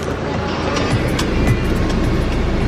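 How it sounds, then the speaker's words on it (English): A 1991 Mercedes 300D with a 2.5 turbo diesel engine runs at a steady idle, a continuous low rumble with a faint clatter heard close by and without talk. "Listen to that diesel run."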